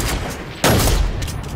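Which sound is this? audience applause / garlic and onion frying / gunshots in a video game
gunshots in a video game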